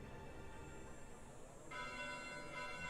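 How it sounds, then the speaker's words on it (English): Bells ringing at night in a video game, a soft sustained metallic chime that swells partway through and keeps resonating over a quiet background, with no talk. "Bells? This late at night?"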